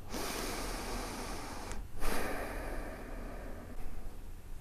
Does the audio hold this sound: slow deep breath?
yes